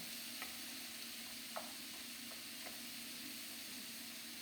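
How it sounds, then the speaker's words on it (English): Soft, steady sizzle of beef mince frying in a pan for chilli con carne, with a few faint clicks and scrapes of stirring now and then. "So it's really starting to sizzle nicely now."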